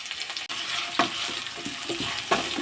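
Carrot, tomato, capsicum and thin slivers of ginger sizzle gently in a pan over low gas, a soft steady frying hiss broken by a few stirring scrapes.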